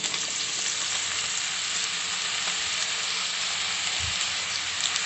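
Slices of bitter gourd being fried as chips in hot oil in a kadai, giving a dense, steady crackling sizzle that stays even throughout, close up and with no speech.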